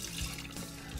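Cream-soaked bass fillets drained for pan frying, liquid pouring and trickling steadily at close range for about a second, a continuous wet splashing like a running tap with no talk over it.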